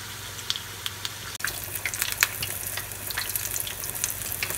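Pork belly for lechon kawali deep-fries in hot oil, a dense steady sizzle with scattered sharp pops and crackles, loud and close, with no voices.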